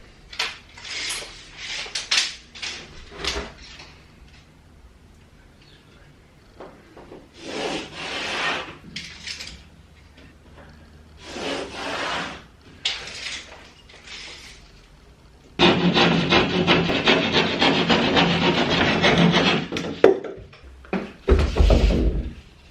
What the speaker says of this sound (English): So next board, and we'll cut this socket out.